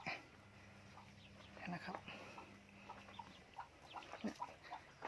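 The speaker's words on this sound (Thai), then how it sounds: "นี่นะครับก็จะมีแม่ไก่บางส่วน แล้วก็ลูกไก่นะครับ" Hens and chicks clucking inside a chicken shelter with nest bedding, soft scattered clucks and peeps over steady background noise, fairly faint.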